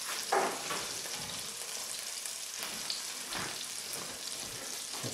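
Hot butter sizzles and crackles in a pan with a steady, close, fine frying hiss and a few soft stirring scrapes, no voices.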